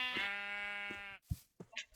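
A Minecraft sheep bleats in a long, wavering, nasal cry lasting about a second, followed by a few short soft thuds and clicks, close and clear with no talking.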